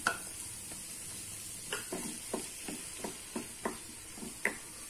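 Chopped tomatoes sauté in a pan with onions for a toor dal tomato curry, a soft low sizzle broken by a series of regular spatula scrapes and taps against the pan.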